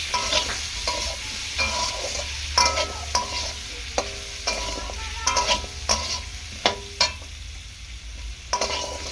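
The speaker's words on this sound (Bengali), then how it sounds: "খুব সামান্য পরিমাণ একটু হলুদ গুঁড়ো দেবো, দিয়ে ভালো করে নাড়াচাড়া করে দেবো এরকমভাবে" Turmeric is stirred into papaya dal cooking in a pan, with a steady low sizzle and scattered scraping clicks of a spoon against the pot, close and fairly quiet, no voices.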